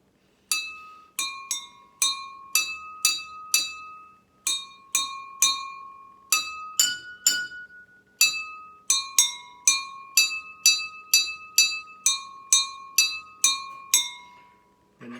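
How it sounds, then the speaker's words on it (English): A familiar tune is tapped out on five drinking glasses filled with water to different levels and struck with spoons. Bright, ringing glassy notes sound one after another in a steady rhythm, each decaying quickly, close and clear with no talking. "5 glasses of water, and they're all filled to different levels to create different pitches"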